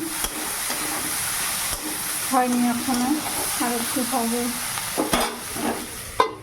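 Flat beans frying in a home kitchen pan, a steady broadband sizzle with stirring scrapes throughout, while someone speaks briefly over it.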